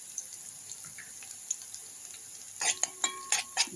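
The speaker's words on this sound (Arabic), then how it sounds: "بس هنحمر بقى البصل اهو يتحمر معانا" Onions frying in a pan for an Egyptian home breakfast, with quiet background hiss giving way to a burst of clattering, scraping stirring and sizzle in the last second or so, fairly close.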